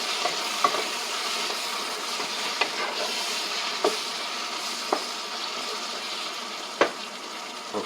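Food frying in oil being stirred, a steady soft sizzle with occasional light scraping clicks from the stirring utensil, fairly quiet and close, with no talk.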